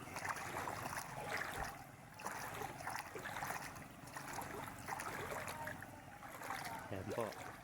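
Floodwater from a high tide surrounds houses in Purok 5, with one house sunk in the water. A continuous broad wash of moving water carries on steadily throughout, with a person talking over it.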